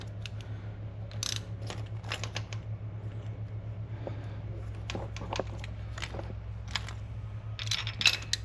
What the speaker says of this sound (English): If you can hear that clicking sound,